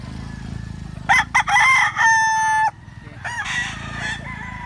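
A fighting rooster at a market crows loudly up close, one long drawn-out call after a few short clucks, with other birds and low background noise around it.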